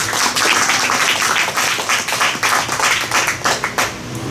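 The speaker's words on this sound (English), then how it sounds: "Can we give the Lord the best clap of praise?" Church congregation giving a round of clapping in praise, a loud, dense wash of many hands clapping steadily throughout with only slight dips, no talk over it.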